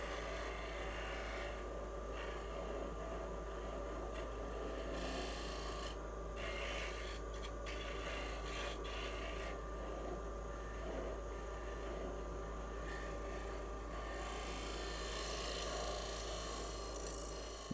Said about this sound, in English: I've got a round nose negative rake scraper that'll fit that profile fairly well